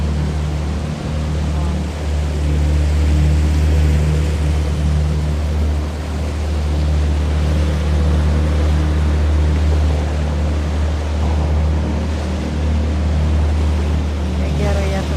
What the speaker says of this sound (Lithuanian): O, atplaukė dar vienas laivas.